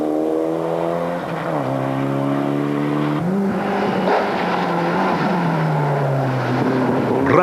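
A Renault rally car races past on a rally stage, its engine note loud and sweeping as it revs and shifts, the pitch dropping sharply as it goes by.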